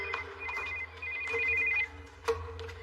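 A telephone rings in repeated electronic bursts at moderate volume over a quiet indoor background, with no voices.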